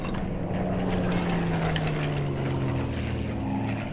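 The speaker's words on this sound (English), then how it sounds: "I can hear the engines" Piston aircraft engines, including a Spitfire, drone steadily in the flight game Plane Mechanic Simulator, a continuous low rumble with sustained humming tones that slowly shift in pitch, moderately loud throughout with no talk.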